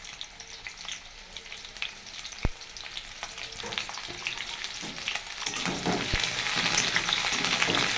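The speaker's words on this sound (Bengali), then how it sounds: "তাহলে এখানে পেঁয়াজ গাছ আর রসুন গাছ আছে, একটু ভেজে নেব।" Onion stalks and garlic stalks fry in a pan over a gas flame with a continuous hissing sizzle. A couple of sharp utensil knocks cut through, and the frying grows louder and denser toward the end.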